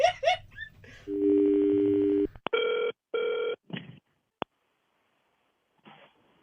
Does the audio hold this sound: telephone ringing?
yes